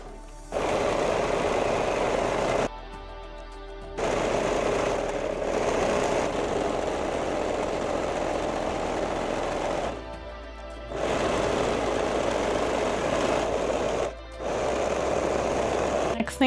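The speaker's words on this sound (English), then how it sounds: "We're gonna sew the side seams and the top seams." A sewing machine stitches the side and top seams of a homemade shirt, running in several steady bursts of a few seconds each, separated by short pauses.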